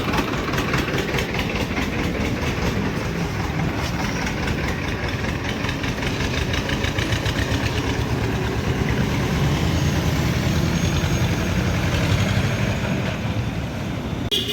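A tractor engine, freshly rewired with a new ignition coil, idles steadily and loudly for the whole stretch, its low knocking chug rumbling on without a break.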